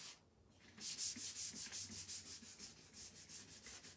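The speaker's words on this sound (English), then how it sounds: "I'm just going to sand and distress both sides" Wood being sanded and distressed for a Dollar Tree spring craft project: after a brief quiet start, a steady run of about a dozen rhythmic, close, raspy back-and-forth sanding strokes.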